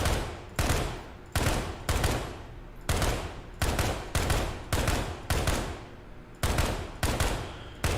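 A rifle fitted with an EOTech sight fires in the video game Ground Branch, sounding as a dozen or so sharp, loud shots in short bursts with brief ringing decays between them, close and without talk.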